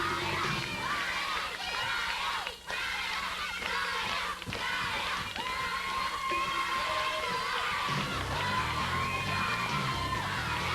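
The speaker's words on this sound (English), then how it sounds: "I tell you, this crowd is going pretty crazy right now about this basketball stuff" A basketball crowd at a vintage televised event cheers and yells in a continuous roar, with whoops and shouts rising over the din and voices talking through it the whole time.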